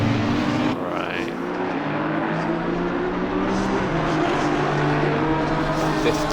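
Race cars on the Suzuka circuit in Assetto Corsa Competizione, including an Aston Martin starting a lap, give a steady, loud engine drone with a continuous low hum and whine and no pauses.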